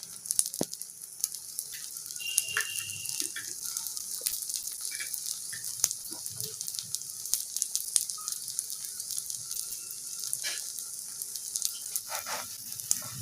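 Chicken omelette sizzling and frying in oil in a pan, a steady close crackle with scattered sharp pops throughout, no talking.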